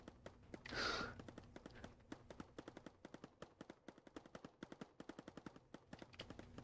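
Rapid, evenly spaced shots of homing bullets fire in a video game, a steady mechanical stream of soft pops that continues throughout, with a brief breathy gasp-like sound near the start.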